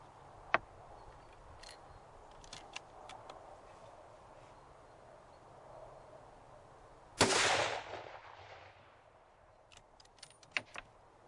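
A single loud .284 Shehane F Class rifle shot, loaded with 52 grains of Reloader 17, cracks out sharply and rings off into a decaying tail, surrounded by faint clicks and small handling knocks before and after.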